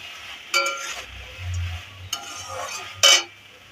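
Mustard paste being stirred into boiled jackfruit seeds in a pan for a pickle-style bhindi dish, several sharp clinks and scrapes of a spoon against the pan over a faint low simmer, close and alone.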